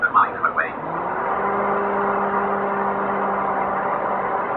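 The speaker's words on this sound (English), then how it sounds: "Successfully turned on the microwave." A voice-activated microwave oven hums steadily while cooking, a low even whir with a faint tonal drone, preceded by a few short beeps at the start.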